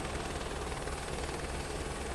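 Steady, droning helicopter rotor and engine noise from Microsoft Flight Simulator, a constant broadband whir with no voices, moderately quiet and unchanging across the short stretch.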